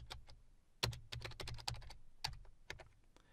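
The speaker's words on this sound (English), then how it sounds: "So I'll type cd folder 1" A PowerShell command being typed on a computer keyboard, a quick irregular run of about a dozen close, crisp key clicks with one heavier strike, quiet overall with no talking.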